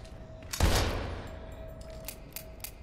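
A single loud gunshot in Daymare 1998 cracks sharply and booms, then rings out and fades, with a few faint clicks afterward.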